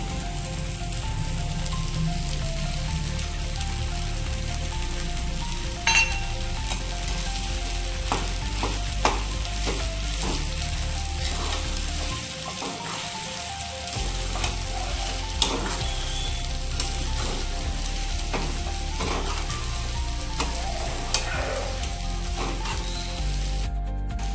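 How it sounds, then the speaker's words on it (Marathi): Potatoes and soaked sago pearls sautéing in a pan for a fasting-day khichdi, a steady close sizzle and fry with occasional spoon stirs and scrapes against the metal, running continuously without talk. "आता यामध्ये आपण बटाटाही परतून घेऊया"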